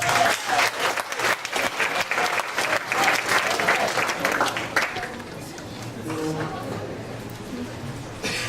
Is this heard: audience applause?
yes